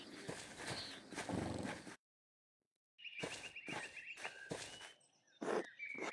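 Horses in the medieval game Pentiment clop along on hooves and give a couple of clear neighs and whinnies, close and fairly quiet, broken by a brief silent gap.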